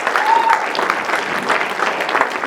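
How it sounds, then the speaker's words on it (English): A crowd at a political rally applauds steadily, a dense wash of clapping heard up close for the whole stretch, with a voice faintly underneath. "Big round of applause."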